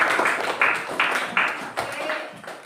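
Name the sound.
applause for Lisa in a class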